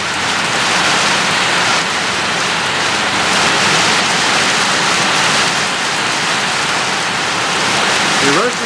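Steady rain pours onto a duckling pen outdoors, a dense, even hiss of drops continuing loudly throughout without a break.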